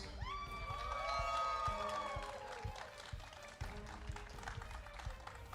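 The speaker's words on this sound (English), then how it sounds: "let's give both the teams a warm welcome and a round of applause" At an esports world championship playoff event, an audience claps and cheers for the teams, with scattered applause and crowd noise under a loud rising musical sting from the arena.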